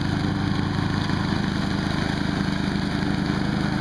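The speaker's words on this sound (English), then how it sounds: "there goes Kim on her first riding lawnmower experience of her life" A riding lawnmower engine runs steadily and loudly close by, a continuous low droning rumble with an even, throbbing pulse and no talk over it.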